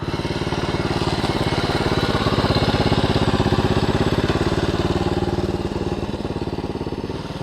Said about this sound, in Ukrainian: Дивіться, який мотоцикл, який байкер.